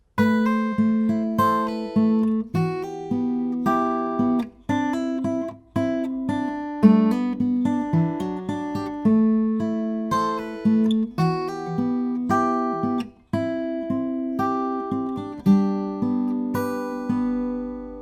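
A guitar is played in a bouncy strummed and picked pattern, notes ringing in quick rhythmic bursts with brief pauses, clear and close, no voices.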